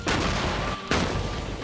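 A torpedo explodes in a straight trench during a blast test, making a loud, sustained roaring boom, followed by a second sharp burst as the rumble carries on.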